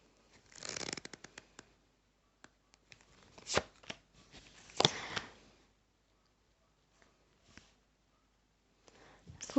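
Tarot cards shuffled in several quick riffling bursts, crisp and close, with pauses and soft handling between; no talking.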